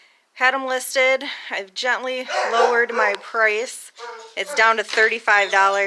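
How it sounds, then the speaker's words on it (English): A dog barks from behind a half door indoors, its barks mixed in under a person talking steadily throughout. "Excuse my dog. He's barking because I have him locked behind a half door."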